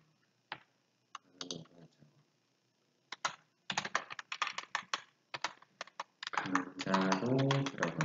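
Typing on a computer keyboard in bursts of quick clicking keystrokes, sparse at first and then a dense rapid run, close and clear with no talking.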